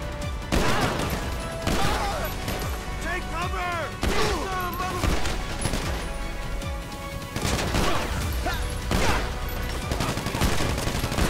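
Rapid laser blaster fire rattles in GTA 5 in repeated bursts of quick shots with brief pauses between them, loud and close, while voices talk in the background.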